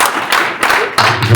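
A few people clap at a citizens' summit opening address, with about four distinct, evenly spaced claps sounding fairly close and loud.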